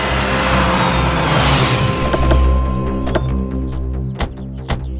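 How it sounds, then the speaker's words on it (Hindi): Car reversing with its engine revving, a loud close rumble rising and then easing, followed by a few sharp clicks and knocks near the end. "आप गाड़ी को पीछे लेके जाइए"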